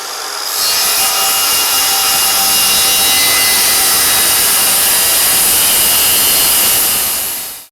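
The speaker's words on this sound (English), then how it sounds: "Snap you a line and go ahead and cut that off the masonite also." A power saw rips steadily through a masonite board, a loud continuous buzzing cut lasting several seconds with no talk.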